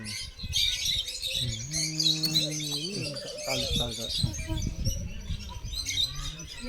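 Birds chirp and tweet at a bird sanctuary on a strawberry farm in Al Baha, Saudi Arabia, high calls scattered throughout alongside a low cooing, with people talking nearby.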